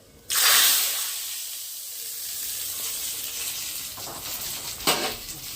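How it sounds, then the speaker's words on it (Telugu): Tadka tempering dropped into hot oil for pachi pulusu, an abrupt loud sizzle that bursts out, then settles into a steady frying hiss, flaring again briefly near the end; no talking. "తిరుమత వేసుకుంటున్నా."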